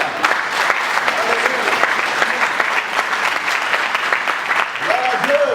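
A church congregation breaks into sustained applause during a Sunday service, a dense, loud wash of clapping with a voice briefly rising over it near the end.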